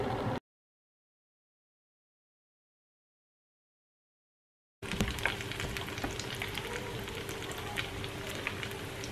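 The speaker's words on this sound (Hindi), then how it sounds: "लो टू मीडियम फ्लेम पर आप इसे दोनों तरफ से डीप फ्राई कर लीजिए अच्छे से" Breadcrumb-coated mini pizza pockets deep frying in hot oil over a low to medium flame, a steady close bubbling sizzle that starts after a silent gap and carries on evenly to the end.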